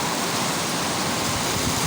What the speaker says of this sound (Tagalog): So ang lakas ng ulan, kaya silipan na rin natin ang lakas ng ulan